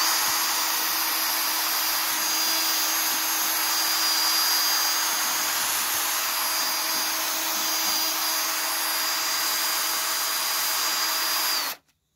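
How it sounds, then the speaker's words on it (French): Steady hand sanding of a Dacia Logan headlight lens with fine 2000-grit sandpaper, a constant hissing abrasive rasp that runs unbroken for about twelve seconds and then stops abruptly. "on va passer au ponçage avec le grain à 2000, beaucoup plus fin"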